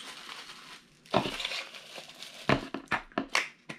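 A plastic bag is pulled and crinkled off a boxed Funko Soda vinyl figure, close crackling and crumpling bursts in quick uneven succession, with no talking.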